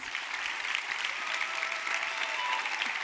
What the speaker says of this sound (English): to get this round of applause